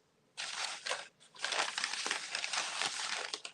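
Wrapping paper is handled, rustled and crinkled close up for a packing job at a live sale of Indiana Glass Lotus pieces, with a short crumple, a brief pause, then sustained scrunching.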